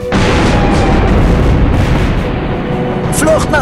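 Artillery fire in a World War 2 strategy game, heavy booming blasts and rumbling explosions piling up loudly, a short gap, then more bursts, with a game voice speaking German commands over the din.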